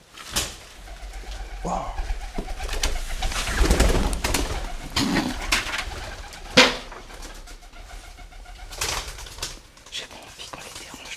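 Pigeons coo repeatedly inside an abandoned school in Brittany, with soft wing flutters and scattered noises, while people whisper and speak quietly nearby.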